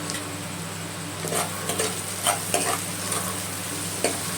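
Onions frying with salt in a pan, a steady close sizzle broken by several light scrapes of a stirring spoon.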